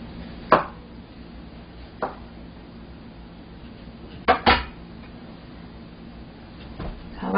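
A knife cuts through pickled cucumber on a cutting board: about five sharp, quiet chops spaced irregularly, with a near-double chop in the middle and soft kitchen room noise between them.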